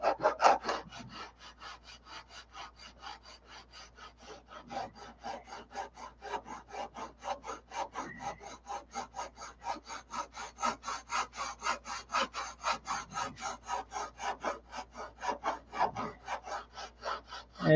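A wooden inboard wing tip is sanded by hand in fast, regular back-and-forth rasping strokes, close and steady for a long stretch, with no voices.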